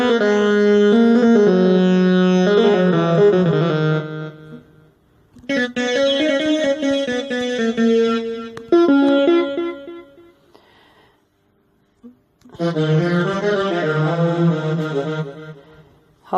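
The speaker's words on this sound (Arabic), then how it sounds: "عندك هذا صوت الساز موجود بيه 4 أصوات" A saz voice on an Arabic oriental keyboard plays three loud melodic phrases with plucked, twangy harmonics, separated by short pauses and a few soft plucks, with no talking.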